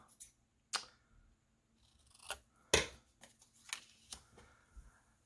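Several scissor snips cut through a paper craft tag, sharp separate clicks spread unevenly with short gaps, close and fairly quiet, with no talk.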